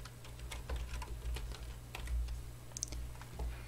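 Typing on a computer keyboard while entering a name in Photoshop, a quick irregular run of light key clicks close by over a low steady hum, with no voices.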